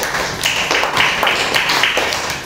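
Students in a primary classroom clap together in a quick, loud, close burst of rhythmic hand claps lasting a couple of seconds.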